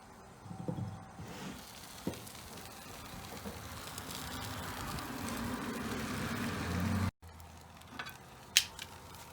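Bacon-wrapped dove cooks outdoors, a steady sizzle and crackle that builds gradually, with a few handling knocks and a brief break before the frying resumes, no talking.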